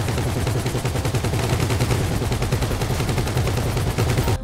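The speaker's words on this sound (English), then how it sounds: "the other team shoots their miniguns" Minigun fire from the GTA Online Humane Labs heist, a continuous rapid mechanical rattle of bullets sustained loud and close for the whole stretch, with no talk.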